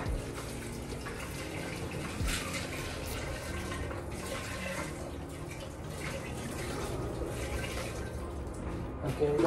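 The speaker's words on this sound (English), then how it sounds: "I'm gonna just add some water." Water is poured onto water softener resin during a DIY resin replacement. A continuous splashing trickle runs for about nine seconds at close range, with some low background rumble and a few small drips.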